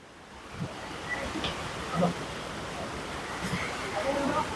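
Steady roaring typhoon wind buffets the microphone outdoors, a broad rushing noise with a few gusty swells throughout.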